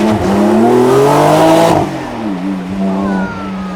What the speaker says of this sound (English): the Porsche, look at that, no squirreling this time, just pure power again